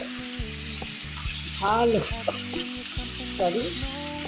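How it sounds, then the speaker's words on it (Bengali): Crab pieces frying with spice paste in a pan, a steady close sizzle broken by several scraping stirs, with a harmonic squeaking tone sliding above the frying between about 1.6 and 3.6 seconds. "ভালো করে কাঁকড়াটাকে একটু কষিয়ে নিতে হবে।"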